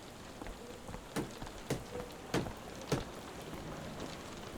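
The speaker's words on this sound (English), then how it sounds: "Actually, yeah, it is raining, so might as well." Rain falls steadily in the Sherlock Holmes The Awakened video game, a soft, faint hiss broken by a few sharper drip-like taps at irregular intervals, with no speech.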